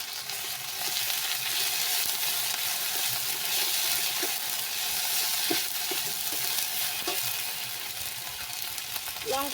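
Ground ginger and cumin paste sizzles in a hot pan, a steady bright hiss with occasional soft scrapes and clicks from stirring, close and continuous, with no talk.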